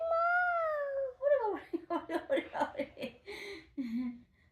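A voice imitates a cat, giving a few drawn-out meows followed by a string of short, laughing-like vocal bursts, close and fairly clear.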